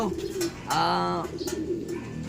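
A bird coos with a soft, throaty warble rising and falling over about a second, set against faint background chatter.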